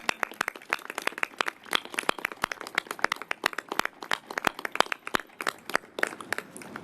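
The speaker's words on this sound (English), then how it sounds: "I also want to ask for a round of applause for all the family members." An audience at a mayoral traffic-safety bill signing claps for the victims' family members, with scattered sharp hand claps spread across the room at an uneven pace, fairly distinct and not very loud.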